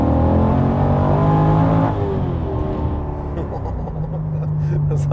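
Subaru BRZ swapped with an LS3 V8, about 500 hp, pulling hard at full throttle on a country road: a loud, deep engine drone rising in pitch, easing at a gear change, then climbing again as voices speak over it.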